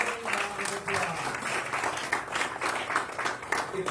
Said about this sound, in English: So we'd like to give a Hard Rock Casino of Northern Indiana a round of applause.